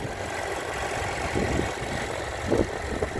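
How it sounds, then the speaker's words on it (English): A 2017 Buick Enclave's engine idles close by, a steady mid-low hum with small rhythmic pulses and a couple of brief louder bumps. "with the motor running"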